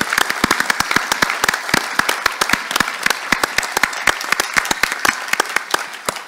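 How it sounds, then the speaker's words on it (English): Audience at a food industry trade show claps in distinct, sharp individual hand claps that form a lively, fairly close applause lasting the whole stretch. "how about a round of applause for the best industry in the entire world?"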